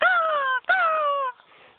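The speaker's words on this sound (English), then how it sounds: "It's a pretty wild sounding bird." A wild-sounding bird gives two long, wailing calls, each drawn out and slightly falling in pitch, close and loud, with a brief gap between them.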